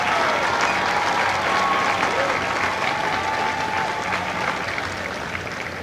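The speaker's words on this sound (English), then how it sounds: "please join me in a round of applause for the company staff of Company B." Crowd applause for Company B staff at a Marine recruit graduation ceremony in San Diego: loud, dense, continuous clapping from a large outdoor audience, fading slightly toward the end.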